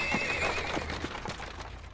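A horse pulling a buggy neighs loudly and close by, with clip-clopping hooves underneath. The whinny rings out at the start and fades over about two seconds, with no talking.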